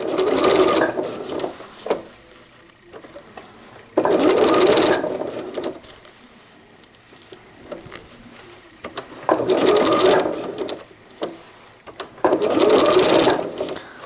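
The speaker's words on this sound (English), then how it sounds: "So I'm only sewing maybe 4 or 5 stitches at a time before I gotta rotate again." A sewing machine stitches cotton diaper fabric in four short, loud bursts of rapid whirring, each only a few stitches long, separated by quiet pauses while the fabric is turned.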